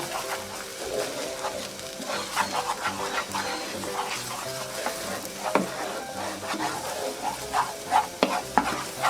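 Eggs being stirred and broken up in a hot pan, close sizzling frying with repeated scraping and tapping of a utensil against the pan.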